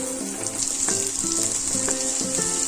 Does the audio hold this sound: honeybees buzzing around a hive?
no